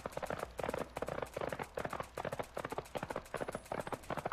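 Rapid, rhythmic horse hooves clip-clop at a brisk gallop in the video game Fallout: New Vegas, crisp and close, with a faint high tone in the background.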